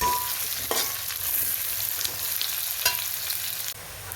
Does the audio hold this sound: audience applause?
no